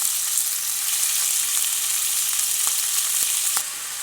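Beef trimmings fry in a hot pan over a gas flame, giving a loud, steady, close sizzle with a few sharp pops, easing slightly near the end.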